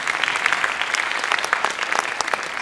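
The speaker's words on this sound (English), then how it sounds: "Heather Rosa, yep, big round of applause, Heather Rosa." A concert audience claps for the piano accompanist at a Christmas choral performance, bright, continuous applause from a full room at moderate volume with no talking over it.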